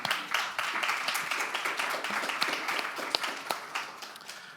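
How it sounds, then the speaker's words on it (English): An audience at an art forum applauds, a moderately loud patter of many hands clapping that stays fairly close and steady for a few seconds. "A round of applause to everyone."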